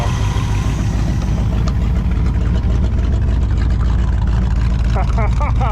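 A 1964 Pontiac Catalina barn find, running again after more than 30 years, rumbles loud and close in a steady low idle, with a voice speaking briefly over it toward the end.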